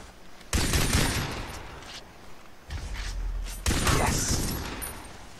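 Gunfire in the Far Cry 3 video game comes as heavy bursts with booming low-end tails, three loud volleys that overlap and trail off into a rumbling echo.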